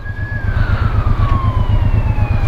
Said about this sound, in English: we've got an ambulance coming round, let him go